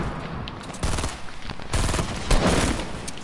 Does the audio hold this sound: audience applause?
no